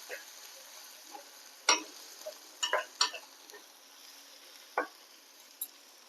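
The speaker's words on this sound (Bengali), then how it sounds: "এবার ভালো করে সমস্ত মশলাকে আমি কষিয়ে নেব।" Ground cumin and other spices fry in a pan for matar paneer, with a faint background sizzle and scattered sharp scrapes and clinks as a utensil stirs them, a handful of louder strokes among quieter ones.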